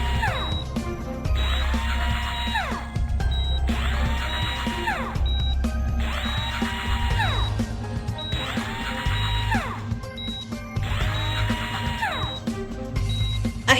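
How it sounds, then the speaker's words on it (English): A surgical drill in a video game bores holes in bone, whirring in repeated bursts, five or so even cycles of rising and falling pitch, with mechanical clatter and steady background hum. "Place the drill to make 6 holes in the bone."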